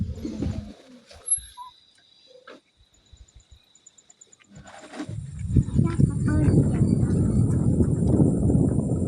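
Scattered bird calls and chirps sound at a distance in forest near Chimmini Dam, Kerala, among outdoor sounds, followed by rustling and movement noise, with some faint talking.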